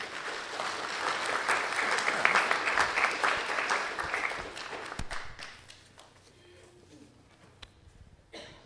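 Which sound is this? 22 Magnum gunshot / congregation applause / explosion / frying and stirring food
congregation applause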